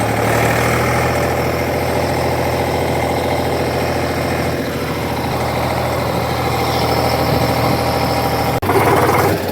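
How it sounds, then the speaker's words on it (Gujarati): A tractor engine idling close by, a steady low chugging rumble that continues throughout with no voices. "જોઈએ તો ટ્રેક્ટર લઈને જાઉં"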